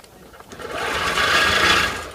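A Bernina Q24 long-arm quilting machine sews steadily, its motor whirring up and running continuously near the mic with a rapid mechanical stitching buzz, no voices.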